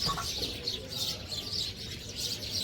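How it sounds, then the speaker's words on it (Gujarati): Sparrows chirp repeatedly in quick bright bursts against a steady background, with soft cooing and a faint flutter mixed in. "ચકલા બોલે છે."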